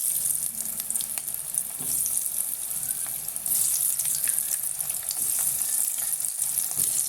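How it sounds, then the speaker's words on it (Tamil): Potatoes frying in hot oil in a kadai give a steady, close crackling sizzle throughout, with faint stirring clinks and no voices. "இப்போ நான் இந்த பொட்டோட்டா வந்து இதில் போட்டுக்கிறேன் ஃப்ரை பண்ணுறதுக்கு"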